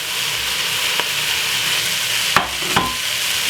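Linguine tossed into a sizzling mixed vegetable stir fry for Jamaican jerk pasta, a steady loud hiss with a few sharp knocks and scrapes of the spoon against the pan.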